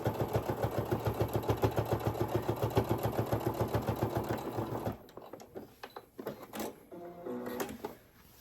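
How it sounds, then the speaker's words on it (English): A sewing machine stitches darts into the corners of a fabric bowl, a fast, even mechanical chatter for about five seconds that then stops, leaving softer handling clicks and rustles of fabric. "So we're starting to form the bowl now by sewing these darts in all 4 corners."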